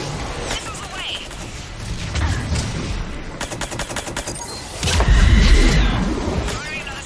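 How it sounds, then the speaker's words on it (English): Missile salvo fired in the Mass Effect 3 video game: bursts of rapid launching cracks and booms, a fast rattling volley in the middle and a heavy blast near the end, with game voices speaking. "Firing another salvo."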